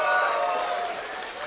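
A live audience in Los Angeles cheers and applauds at a jazz night, a broad wash of crowd noise that fades slightly over a moment, with a voice speaking over it.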